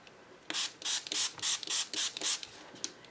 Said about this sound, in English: I'm going to spray this fairly heavily with some water